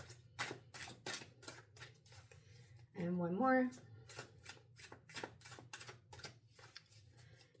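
A short, crisp riffle of cards being shuffled stands out midway, while a person speaks softly before and after it.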